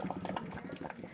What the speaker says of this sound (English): now you're going to want to drain all the excess water out